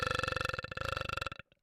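A long, loud burp in a video game rolls out in a rapid pulsing rattle for over a second, then cuts off with a brief faint tail.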